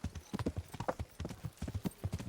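A horse gallops in the video game Kingdom Come: Deliverance, its hooves beating a quick, rhythmic clip-clop throughout, close but fairly quiet, with no voices over it.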